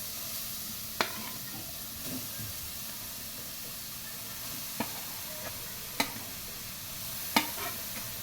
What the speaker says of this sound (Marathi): आता हे मी गाजर सगळं किसलेलं आहे ते टाकते त्याच्यामध्ये